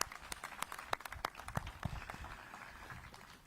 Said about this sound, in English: we can clap for them too